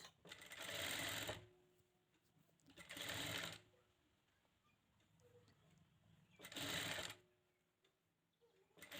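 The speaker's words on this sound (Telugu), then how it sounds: "నేను లైనింగ్ క్లాత్ని కుడుతున్నాను" A sewing machine stitches gold lining cloth for a blouse in three separate bursts of rapid, steady whirring and clatter, close by, with quiet pauses between runs.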